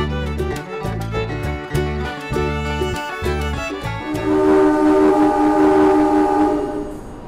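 Kamandaka passenger train departing Semarang Tawang station on track 2, bound for Cilacap, with rhythmic clanking of wagons over rail joints giving way to a loud, sustained horn blast near the end, close by and without talk.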